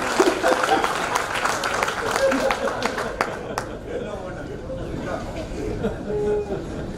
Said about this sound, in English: Give them a good clap.